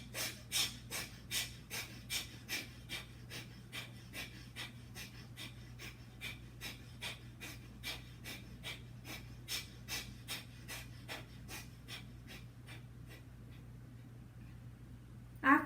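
Rhythmic nasal breathing during yoga pranayama, alternate nostril practice with fingers closing one nostril at a time: about two dozen short, evenly spaced breaths, close and soft, over a steady low hum.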